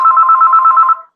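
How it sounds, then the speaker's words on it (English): A phone rings with a single loud, close trill of rapidly pulsing electronic tone lasting about a second before cutting off, heard alone. "Oh, that's my phone."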